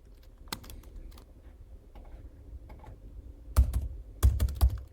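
Irregular keystrokes on a computer keyboard while information is entered into online rental payment software, quiet and steady at first, then breaking into louder, quicker bursts of clacking near the end.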